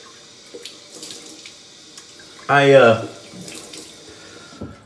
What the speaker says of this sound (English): I'm going to put some hot water up on my face.